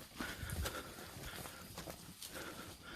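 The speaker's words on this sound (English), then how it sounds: "All this cattle right in the midst of Himalaya" Cattle walk along a Himalayan jungle path near Rishikesh, their hooves giving soft, uneven clopping steps close by over a quiet outdoor background.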